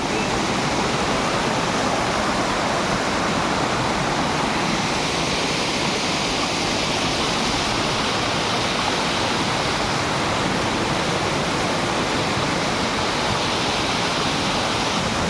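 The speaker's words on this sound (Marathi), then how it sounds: "आता तुम्हाला सगळ्यांना पाण्याचा आवाज येत असेल" A waterfall in a Konkan village roars in a steady, dense rush of fast-flowing water, loud and unbroken throughout with no voices.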